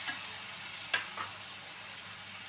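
Tomatoes sautéing with softened onions in a pan for a capsicum potato gravy: a soft, steady sizzle with a single sharp stirring scrape partway through.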